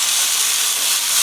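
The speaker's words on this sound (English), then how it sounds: "quickly fry the noodles and then bring everything back together" A steady, loud hiss of noodles frying in hot oil in a wok for a Chinese takeaway-style crispy chilli beef dish, unbroken and close with no voices.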